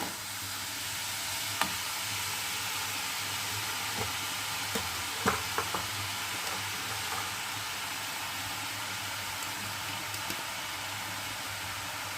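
Finely chopped cabbage stir-frying in a pan for momos, giving a continuous close sizzle with occasional soft scrapes and clinks of stirring, no talking.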